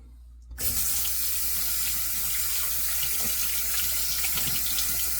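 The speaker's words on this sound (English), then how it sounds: "Get my hand rinsed off there." A faucet switches on after a brief pause, then running water splashes steadily and loudly over a hand being rinsed in a sink.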